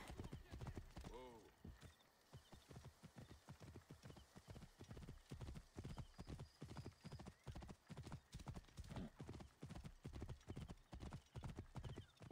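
A horse's hooves clip-clop in a steady, brisk rhythm across ground in Assassin's Creed Origins, with a short whinny near the start, the beats continuing evenly and moderately close throughout.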